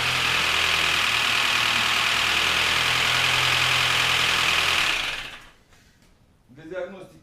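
A hot Volvo S40 1.6 petrol engine idles with valve knock, a loud, steady mechanical clatter under a continuous hum that cuts off abruptly, leaving near silence and a brief faint voice.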